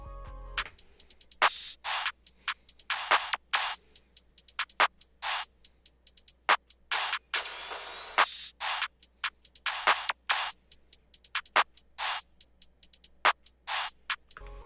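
Layered emo plugg beat percussion, dense crisp hi-hats, rims and snappy effect hits in a busy repeating rhythm, bright and steady over a low hum, with no voices.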